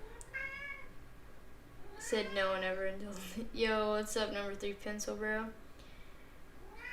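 A domestic cat meows repeatedly, drawn-out and insistent as it asks to be let outside, while someone talks over it throughout.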